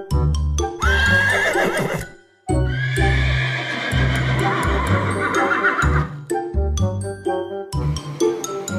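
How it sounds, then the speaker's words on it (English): A horse neighs and whinnies repeatedly in loud, close, shrill bursts, mixed with clip-clop hooves and bright clinking, ding-like chimes, with no talk. "It's a type of animal that was making the neighing sound."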